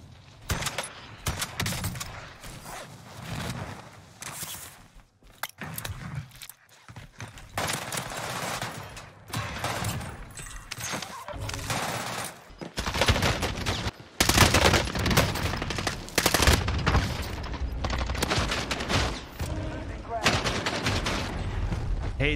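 Dense gunfire from the Warzone Pacific video game, with rapid shotgun blasts and other weapon bursts packed together at close range, loud and nearly continuous across the whole stretch.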